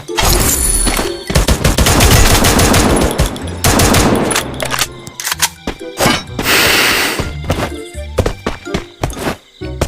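Video game gunfire from a Kingfisher Sunscale Serpent gun skin: loud bursts of rapid automatic shots with sharp thuds, broken by short pauses and then scattered single cracks toward the end.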